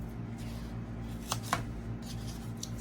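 Scissors snipping through a stack of four folded craft foam sheets, a couple of short crisp cuts close by over a steady low room hum.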